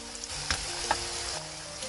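Dried mustard greens being stir-fried with bitter melon and rock sugar in a pan, a steady close sizzle with a couple of soft scraping stirs of the utensil.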